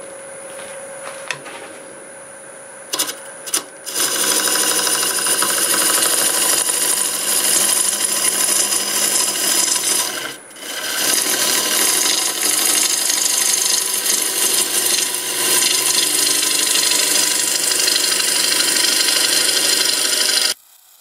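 A bowl gouge cuts apple wood on a wood lathe spinning at about 800 RPM, making a steady, loud scraping and rasping that runs almost continuously after a few short starts, with one brief dip midway; no talk.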